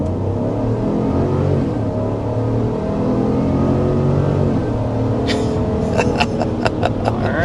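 A Chevy Tahoe's 6.2-liter naturally aspirated V8 pulls hard under full throttle, a loud, steady engine roar rising through the gears from inside the cabin, with faint ticking sounds near the end.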